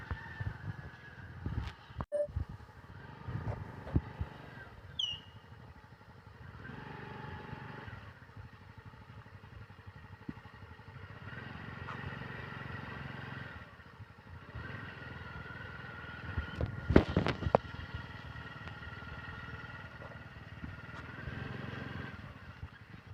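Scooter ridden slowly during a driving lesson, a faint distant engine putter with occasional clatter and a brief louder burst midway, steady and low throughout.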